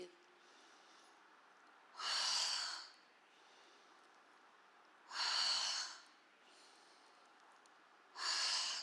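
Three loud, slow breaths spaced about three seconds apart during a gentle yoga session, each a strong airy rush lasting around a second, with quiet pauses between them.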